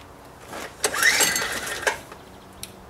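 A gas-powered generator is pulled over in a single brief starting attempt, a short rising whir and rattle that dies away without catching, close by in a quiet setting.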